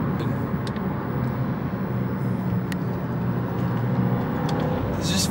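Steady road noise from an Audi S3 being driven: a constant low rumble of engine and tyres with a broad hiss, even and unbroken throughout, heard from inside the cabin with no talking.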